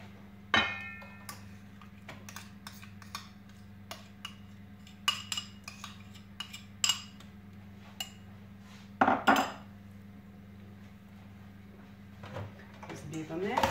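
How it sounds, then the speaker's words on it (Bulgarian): Cake batter for a soft apple cake is whisked after milk is added: a steady low mechanical hum runs throughout, with sharp metallic clinks and taps against the bowl scattered over it. "Взбиваме."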